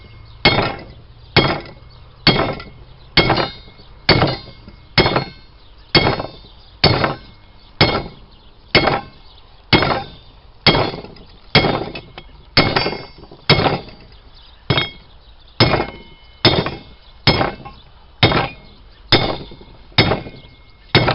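Red-hot metal being hammered flat on an anvil while an arrowhead is forged: loud, sharp ringing strikes come about once a second in a steady rhythm, close by, with no talking between them.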